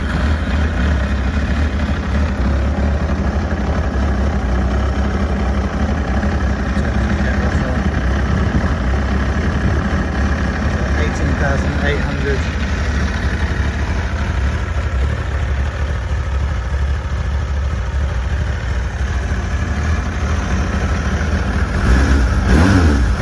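A 1993 Kawasaki ZXR 750 L1 inline-four motorcycle engine runs steadily close by, a dense continuous idle drone with a brief rise in revs toward the end.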